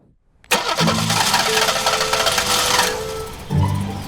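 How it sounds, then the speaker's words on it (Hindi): A car engine cranks and catches at once, then runs steadily at a loud, close idle for about three seconds before the revs drop back, with a second brief burst of cranking near the end. "ये तो मेरी गाड़ी की आवाज है।"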